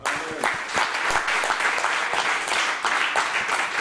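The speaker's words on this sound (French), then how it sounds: "Applaudissons Jéhovah." A church congregation applauding during a worship service, a dense, steady wash of many hands clapping at close range for several seconds with no talk over it.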